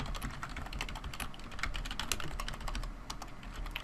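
Rapid, steady typing on a computer keyboard, dense clicky keystrokes running continuously at close range with no voices.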